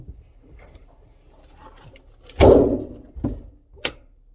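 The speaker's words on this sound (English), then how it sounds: "Let's close it and see." An RV's exterior storage compartment door swings shut with one loud, close thump, followed by a softer knock and a sharp latch click, after a quiet stretch of faint room noise.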